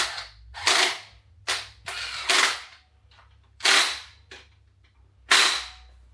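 Impact gun nipping up bolts on a Nissan RB32 engine, heard as a series of short, sharp, loud rattling bursts separated by pauses, with one very brief burst among them, in an otherwise quiet workshop.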